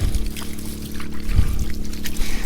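Water pours and trickles into a chicken waterer bucket, a continuous close splashing and sloshing throughout.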